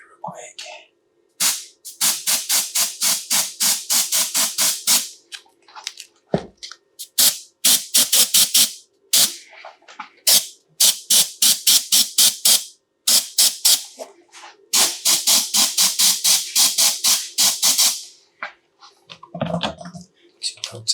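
Airbrush or spray gun misting paint onto custom FootJoy golf cleats in rapid short bursts, dozens of close hissing pulses with brief gaps, sometimes in steady runs, with a faint low hum underneath.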